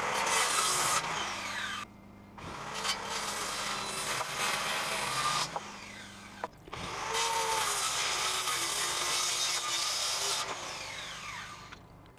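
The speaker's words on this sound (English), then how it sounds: "I need to trim the ends of the rafters a couple of inches so that the fiberglass roofing will overhang." A power saw trims the wooden rafter ends of a woodshed outdoors, loud sustained buzzing cuts broken by short pauses, several passes in a row with no speech.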